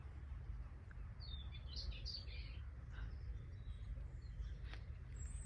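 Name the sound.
willow warbler calling and robin singing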